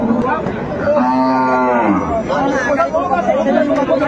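A cow moos loudly and close by at a busy rural cattle market, one drawn-out call rising over steady crowd chatter and people talking.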